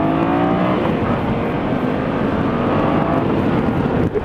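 A Yamaha FZ-07 motorcycle accelerates hard, a loud, close, continuous engine roar that holds steady throughout with no speech over it.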